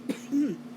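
A single short, muffled cough followed by a brief throat-clearing rasp, close and fairly quiet.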